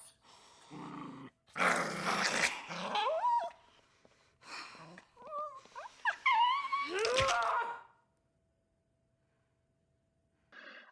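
Dog growling and whimpering in a tense horror film scene with the family dog, strained vocal bursts rising and falling for several seconds before dropping to near silence, with a faint sound returning at the end.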